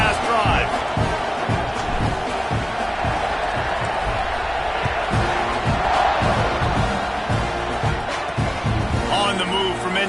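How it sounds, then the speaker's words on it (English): A football stadium crowd roars and cheers after a touchdown drive while the kickoff unit takes the field: a dense, steady wall of noise throughout, with sportscast commentary in the mix. "this crowd is feeling themselves after that last drive"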